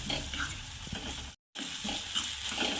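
Flat beans (val papdi) sabzi being stirred and cooked in a pan, with steady close sizzling and scraping stir sounds throughout, broken by a brief silent gap midway.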